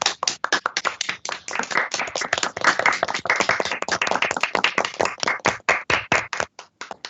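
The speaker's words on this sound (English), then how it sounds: "Let's give Anna a round of applause" An audience at a university honors thesis symposium claps for a presenter. The claps are crisp and distinct and come from a modest group, steady at first and thinning toward the end.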